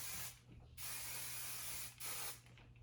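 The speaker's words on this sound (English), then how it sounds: "Then we don't have working spray on this side" Two long hissing bursts of aerosol hair working spray, close by, each lasting about a second with a short pause between them.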